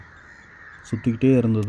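Crows caw loudly outdoors early in the morning, several harsh calls in quick succession following a quiet stretch, while someone speaks over them.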